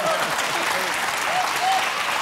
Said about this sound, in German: Einen herzlichen Applaus für Kaspers Sohn.